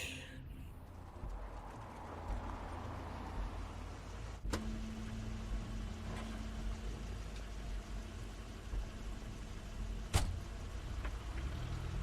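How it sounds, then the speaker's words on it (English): A car pulling up in the video game The Wolf Among Us, heard as a steady low engine hum with a sustained tone, broken by two sharp door-like clunks, alone with no talk. "That's Crane's car."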